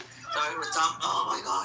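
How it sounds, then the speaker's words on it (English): A pet dog whines and whimpers for attention indoors, a thin, wavering cry running steadily under a person talking nearby. "Sorry, that's my dog."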